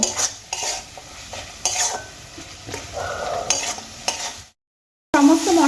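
Spices and tomato sautéed in a pan for Bengali aloo kachuri, a spoon scraping and stirring in repeated strokes over low sizzling, broken by a brief silence before the stirring resumes.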